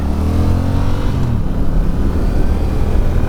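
A motorcycle engine revs and pulls under acceleration, a loud, close, unbroken low growl that holds steady throughout with no voices over it.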